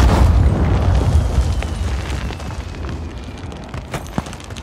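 An airstrike in Call of Duty Warzone sets off a loud, booming explosion that rumbles and slowly fades, followed by a few sharp pops and cracks.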